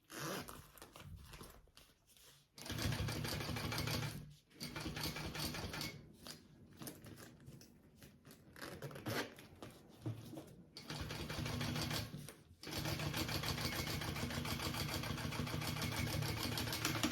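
A sewing machine topstitches a crossbody bag, with rapid mechanical needle chatter in runs broken by short stops, then settling into a long continuous stretch at the end.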